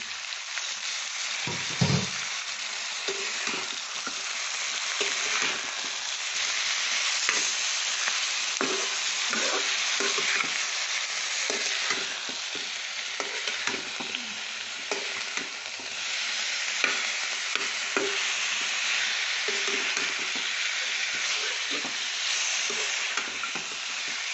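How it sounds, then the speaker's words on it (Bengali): Chicken pieces sizzle and fry steadily in a pan for a chicken stew, a loud continuous crackling hiss with occasional stirring scrapes throughout, no talking. "তারপরে আমি এই যে চিকেনটা দিয়ে দিচ্ছি"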